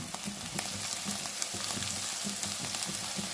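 Rohu fish frying in a small amount of oil, giving a steady close sizzle with scattered crackles and pops throughout, no voices.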